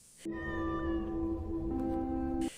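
A single long, drawn-out meow from a cat inside a backpack, close and loud, wavering slightly in pitch before ending abruptly.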